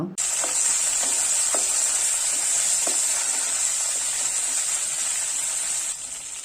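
Green chillies and curry leaves sizzle in hot oil, a loud, continuous frying hiss close to the pan with a few faint clinks and pops, easing off slightly at the end.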